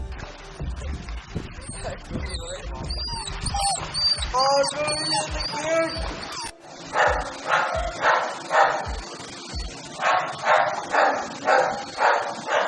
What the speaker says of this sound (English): my dogs can get really annoying and really loud